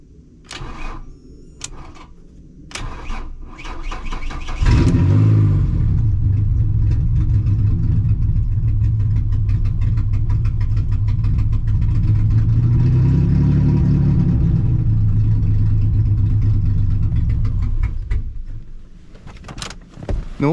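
A car engine cranks with a few clicks and door or window sounds, then catches and runs loud and steady close by for about thirteen seconds, rising in one rev before dying away, with no one talking.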